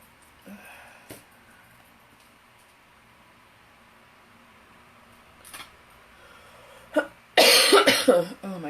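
A few scattered coughs in a quiet room, then a louder, longer coughing fit near the end.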